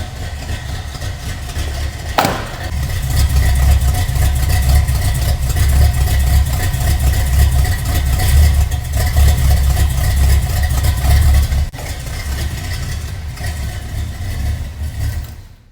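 A 1985 GMC K2500 pickup with headers and a mild cam fires up and settles into a steady, deep, lopey idle, rumbling loudly and continuously close by.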